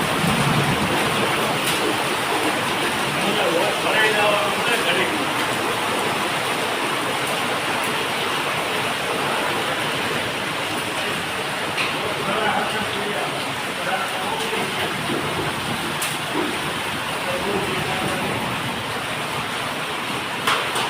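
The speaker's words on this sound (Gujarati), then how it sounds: "કેટલું પાણી જાય ધાબા ઉપરથી આવે બધું" Torrential rain with hail and storm, water pouring off a roof terrace in a constant dense splashing roar, loud and close, unbroken throughout with faint occasional clicks.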